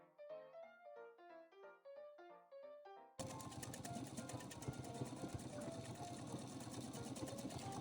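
An embroidering sewing machine stitches letters onto a quilt binding label, starting with a rhythmic tapping of needle strokes, then shifting into a denser, louder steady mechanical whir.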